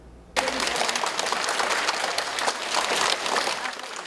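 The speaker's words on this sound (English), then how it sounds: "Amidst the applause" After a brief quiet moment, a room full of people bursts into sustained applause, steady and fairly loud until the end.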